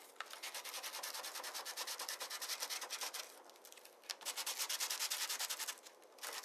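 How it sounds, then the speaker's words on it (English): Sandpaper rubs back and forth over Coredinations ColorCore cardstock in quick, steady strokes, a dense scratchy rasp with a brief pause partway through, close and fairly quiet with no talk. "I'm just going to sand over that area."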